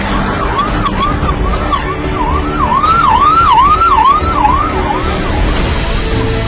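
A wailing ambulance siren cycles up and down steadily and loudly over traffic rumble, sweeping repeatedly without pause.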